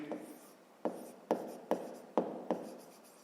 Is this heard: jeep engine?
no